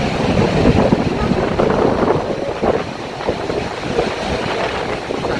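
Wind gusts and roaring water at Niagara Falls make a loud, rushing wash with buffeting wind noise on the microphone, steady and close with no talk.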